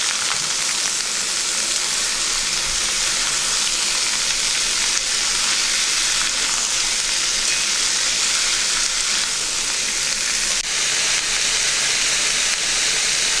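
Chopped papaya, potato and pumpkin frying in a kadai give a steady, loud broadband sizzle that holds without a break, with faint stirring scrapes underneath and no talk.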